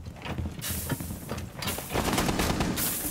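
Gunfire in the tactical shooter game Rainbow Six Siege rattles out in rapid, loud bursts, dense automatic fire with mechanical clatter continuing for about three seconds.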